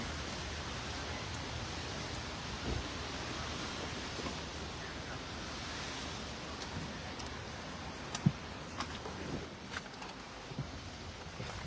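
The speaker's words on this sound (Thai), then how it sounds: "ฝนตกพรำพรำอ่ะ" A soft, even hiss of light drizzling rain, with a few faint scattered taps and drips.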